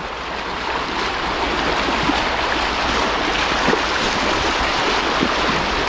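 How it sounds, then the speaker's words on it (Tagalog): A strong river current, swollen with floodwater, gives a loud, continuous rushing roar that stays steady and unbroken throughout. "Malakas agos niyan."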